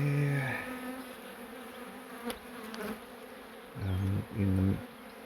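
Honeybees buzz during the relocation of a hive from a carport, with several close individual bees droning past in short bursts, loudest near the start and end, over a quiet outdoor background.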